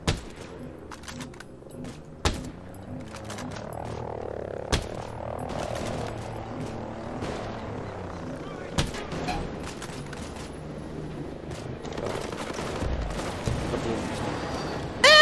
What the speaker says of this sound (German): Nein, man kann mit der normalen Waffe schießen.